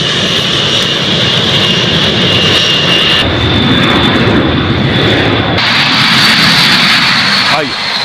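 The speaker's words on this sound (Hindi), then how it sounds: "सुनिए जरा आवाज इसकी, आसमान को चीरती हुई। इससे आप अंदाजा लगा सकते हैं कि B-52 जब अंतरिक्ष आसमान में उड़ेगा" A B-52 bomber jet flying overhead, a loud, continuous roar that fills the whole stretch without letup, with a rushing, tearing edge to the noise.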